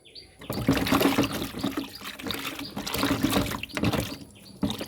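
Water splashes and trickles as yellow turmeric plants and other items are washed by hand outdoors during the rainy season, close and continuous with uneven sloshing.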